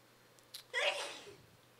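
A single sharp sneeze bursts out after a short intake of breath, close and fairly loud, then fades into quiet.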